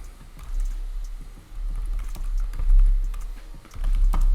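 Someone types a product title on a computer keyboard in quick, irregular bursts of close clicks, with a low rumbling hum underneath and no voices.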